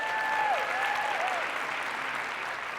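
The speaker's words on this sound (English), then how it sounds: "let's give her a round of applause." Moderate crowd applause at a presentation on culture and AI, even and sustained throughout, with a faint tonal whistle or feedback line sliding underneath early on.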